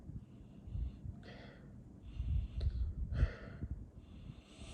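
Someone sniffs at a glass of Old Forester 1920 Prohibition Style bourbon, several short faint nasal inhalations with soft breathing between them, quiet and close, no talking.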